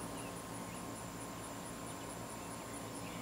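Bees swarming around a backyard beehive make a dense, continuous buzzing drone, steady and fairly faint, with no voices.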